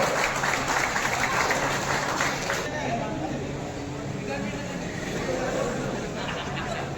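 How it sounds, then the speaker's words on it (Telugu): A crowd at a World Photography Day celebration in Sircilla applauds a photographer, dense clapping under an announcer's voice, thinning after a few seconds into chatter and scattered claps. "చప్పట్లతో అందరు చప్పట్లు కొట్టండి."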